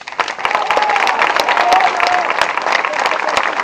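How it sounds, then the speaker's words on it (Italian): A theatre audience applauds Enzo Boffelli, a dense crowd of clapping hands that holds steady and loud throughout, with a voice faintly audible through the clapping. "al quale do un grandissimo applauso"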